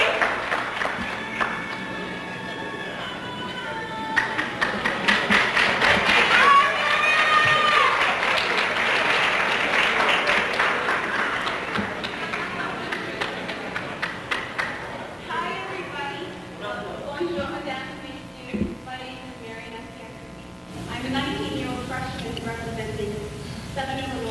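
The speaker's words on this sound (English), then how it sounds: "Let's give a nice round of applause to Marian Apia Kubi, ladies and gentlemen." An audience at a 1999 event bursts into sustained applause that swells and then fades over several seconds, followed by a speaker's voice through a microphone.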